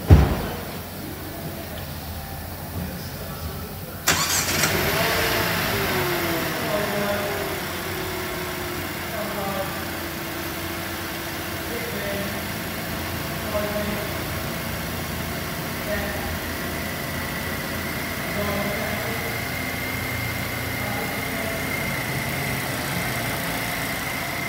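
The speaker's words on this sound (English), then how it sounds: "Going in the vehicle and start the vehicle to shut the lock." A vehicle engine starts with a sudden burst after a few quiet seconds, then settles into a steady, close, low idle that runs on without a break, while someone talks intermittently over it.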